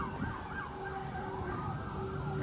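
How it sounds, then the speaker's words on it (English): Emergency vehicle sirens wailing across a Kansas City riverside area at Westport Landing near train tracks, a faint, distant rising and falling tone that runs steadily on its own. "All the sirens."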